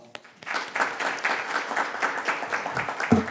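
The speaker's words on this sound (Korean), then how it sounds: "다시 한번 큰 박수 부탁드리고요" Audience applause at a policy forum breaks out after a brief pause, a dense steady patter of many hands clapping that continues throughout.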